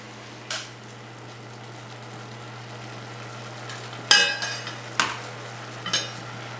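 Onion and soy sauce go into a pan of braising asparagus. Faint sizzling runs under a steady hum, broken by a few sharp clinks and scraping taps of a utensil against the pan in quick succession near the end.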